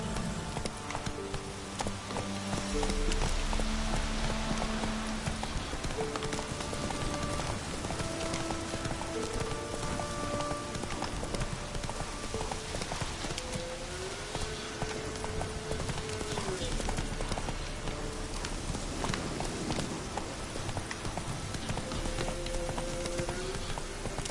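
Horse hooves clip-clopping steadily in The Witcher video game, a continuous rhythmic trot under layered game music and ambience, with occasional spoken lines.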